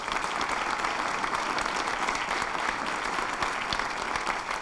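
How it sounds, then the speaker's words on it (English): Audience applause during a mayor's State of the City address, a continuous even patter of many people clapping in a large hall, moderately distant and without speech over it. "It is something to clap about"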